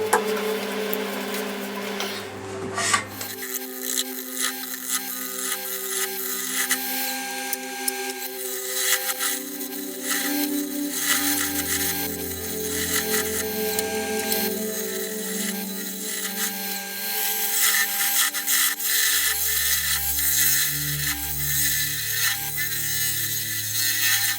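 A tool carves into the beech wood base of a birdhouse, producing irregular ratcheting, grinding cuts that come and go in short bursts, with quieter gaps between passes.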